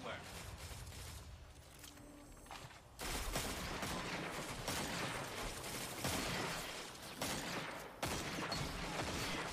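Rapid gunfire in a Destiny 2 firefight, dense bursts of shots and impacts that start abruptly and continue in waves, mixed with game effects and players talking throughout.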